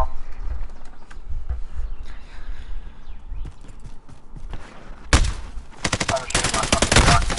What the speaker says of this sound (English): I was shooting my fucking gun